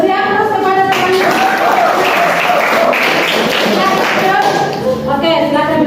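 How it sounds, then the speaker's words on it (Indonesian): Classroom applause for a student group that has just presented, dense clapping from seated classmates lasting several seconds, with voices and a steady tonal hum mixed in. "Beri aplaus kepada teman-teman."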